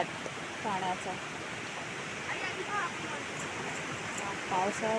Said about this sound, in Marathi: हा आहे पाट पाण्याचा